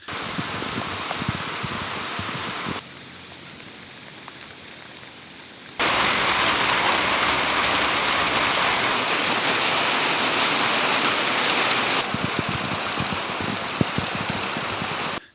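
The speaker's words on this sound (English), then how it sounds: "we just had our first proper, really big rainstorm of the summer." Heavy summer rainstorm pouring down in a steady broadband hiss, loud and continuous, easing briefly to a softer patter in the middle before surging back to full intensity, with no voices.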